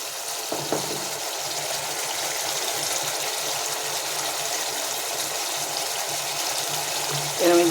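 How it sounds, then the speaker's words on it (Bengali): Water from rinsing a bowl pours steadily into curry cooking in hot oil, a continuous close gushing wash with light sizzle running throughout and a brief louder splash at the end. "বাটি ধোয়া জলটা দিলাম"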